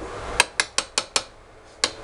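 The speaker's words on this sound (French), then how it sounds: "on la mélange un peu histoire de la faire balader dans la casserole" Five or six sharp metallic clinks ring out in quick succession as star anise is stirred in a saucepan, then a pause before one last tap.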